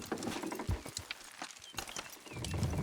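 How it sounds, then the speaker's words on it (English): Horses in Red Dead Redemption 2 hauling a load, their hooves clopping in an uneven rhythm at moderate distance, with faint creaks and a brief snort amid the game's ambience. "Horses will pull it clean down."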